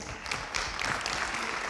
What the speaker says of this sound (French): Je vous propose de l'accueillir sous vos applaudissements